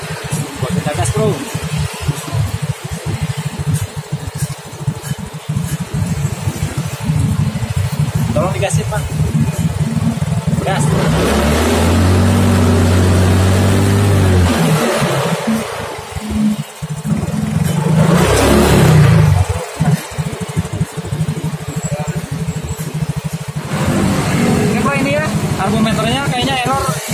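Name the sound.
Yamaha X-Ride motorcycle engine revving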